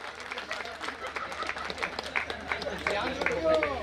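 An audience claps for three people at a Marathi public talk. Scattered, uneven clapping runs under and between a speaking voice.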